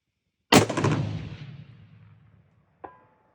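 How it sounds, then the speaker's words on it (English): A single loud rifle shot cracks sharply at a shooting range and its boom rolls away over a couple of seconds, followed by a faint metallic ping from a distant steel target. "Let's shoot one more right there and see what it does."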